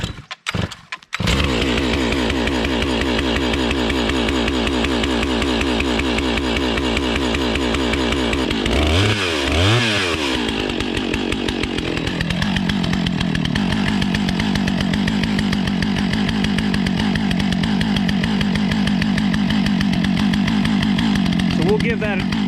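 Firewood processor engine idles as it warms up, a loud continuous motor drone that holds steady for the whole stretch, with a brief change in pitch partway through.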